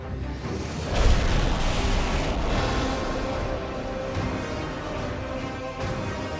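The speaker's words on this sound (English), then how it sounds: "Korolev's R-7 rocket is finally ready for its first launch." An R-7 rocket launches with a sudden loud roar about a second in, then a broad, sustained rumbling blast that holds steady and dense with no pauses and no voices.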